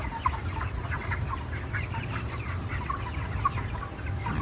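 Chickens cluck continuously at close range over a steady low rumble, with a dense chorus of overlapping bird calls throughout.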